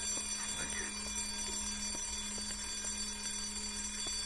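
An alarm in Silent Hill: Downpour keeps ringing with a steady tone and regular faint clicks, quiet over a low ambient hum, with no voices present.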